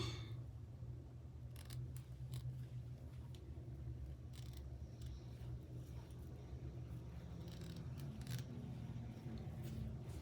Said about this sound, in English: It's much easier to cut the lace